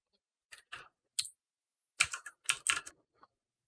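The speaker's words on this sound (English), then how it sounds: "you can see they are creating colors based on what key you're hitting on the keyboard" Close keystrokes on a computer keyboard during a coding session with a p5.js sketch that changes colors per key, arriving in a few sparse taps followed by a quick cluster of clicks, with no talking.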